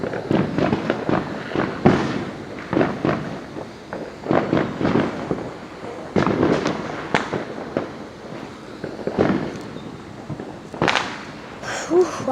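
Small fireworks bursting outdoors in a rapid, irregular string of sharp cracks and pops, some near and loud, others fainter, with occasional voices in the background.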